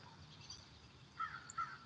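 Crows in a tree give two short, faint caws late in a quiet outdoor stretch of low background noise.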